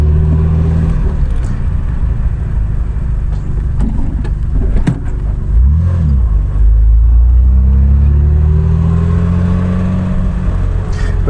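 1967 Triumph Vitesse car rolls over speed humps, its engine droning low with thumps and knocks from the suspension, then revving up with rising pitch as it pulls away, heard from inside the car.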